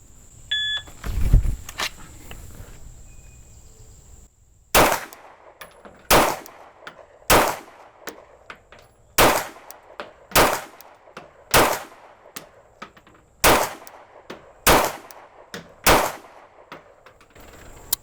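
A Glock pistol fires Tula ammunition at a steady pace, with about ten sharp, loud shots roughly a second apart, after a quieter start and a faint beep.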